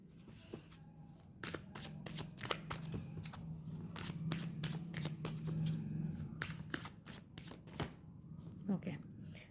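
Tarot cards shuffled and drawn close up, a run of sharp flicking snaps and rustles that comes in bursts, while a voice murmurs quietly underneath.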